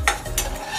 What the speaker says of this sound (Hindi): लगातार चलाते हुए इसे हम रोस्ट कर लेंगे